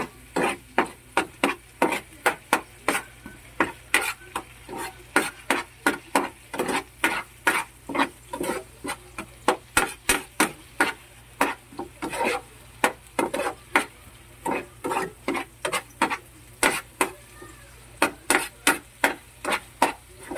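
Corned beef and egg stirred in a pan, a close run of quick rhythmic scraping strokes of a spoon against the pan bottom for about twenty seconds, with no talk.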